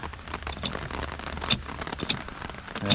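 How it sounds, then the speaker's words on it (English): Rain falls outdoors with steady patter and occasional louder drops striking a surface near an RV door, continuous and moderately close, no talking. "it started raining on us, and it's going to continue to rain till the end of this video."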